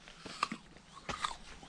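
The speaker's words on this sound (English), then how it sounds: "Me chewing on something." A person chewing food outdoors, with a few crunchy bites spaced out over a couple of seconds, close to the ear and fairly quiet.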